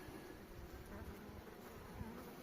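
Steady, low insect drone of many honeybees buzzing close by on a hive frame, continuous and even with no voices.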